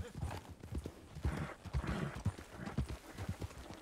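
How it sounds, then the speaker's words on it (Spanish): Horses clip-clop in an open-world ranch roleplay game, several sets of hooves trotting in quick uneven rhythm close by. A faint whinny and soft background voices blend underneath. "Bueno, pues ya tenemos tres caballos."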